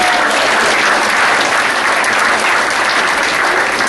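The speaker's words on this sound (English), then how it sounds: "Put your hands together and welcome the great Scotty Cummings" Loud, sustained applause from a crowd, a dense wash of clapping that holds steady throughout.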